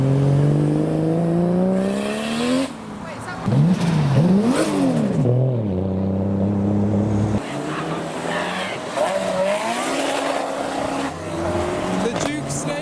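A modified Toyota Supra leaving a car show, revving hard in repeated sharp climbs and drops with turbo whooshes, loud and close, followed by steadier engine drone and other cars passing.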